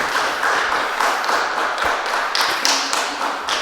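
An audience at a school board meeting breaks into steady applause, many hands clapping in a dense, continuous patter with a few louder individual claps, fairly close and filling the room.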